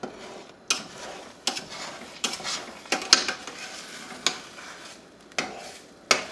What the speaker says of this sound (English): just stirring it. Forget the microwave, just stir it.